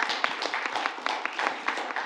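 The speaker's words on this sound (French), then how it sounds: "Donc quand même des applaudissements pour Léna." A book-fair audience applauding, a dense continuous patter of many hands clapping close by, steady and lively for a couple of seconds.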